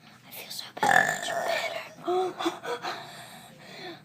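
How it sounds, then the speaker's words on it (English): A person forces out a burp during a burping contest, a short guttural belch followed by breathy, whispery vocal sounds up close and fairly quiet. "I'm going to get this burp out of my stomach."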